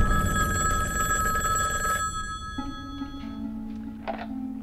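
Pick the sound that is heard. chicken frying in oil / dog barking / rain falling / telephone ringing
telephone ringing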